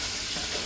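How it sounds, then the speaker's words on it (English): Stewed okra with chicken, shrimp and beef sausage fries in a pan, giving a loud, dense, continuous sizzle heard close up and alone. "That sizzle"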